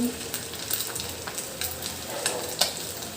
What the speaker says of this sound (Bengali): দেখুন কীভাবে মাছ ভাজে